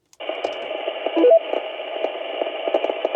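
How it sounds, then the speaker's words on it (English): A 2m/70cm amateur radio repeater answers over a mobile rig: a burst of hissy, band-limited transmission opens after a brief silence, carrying a short tone beep and a steady crackly carrier for about three seconds. "KM9G testing the K5 CCL repeater, Kilo Mike 9 Golf."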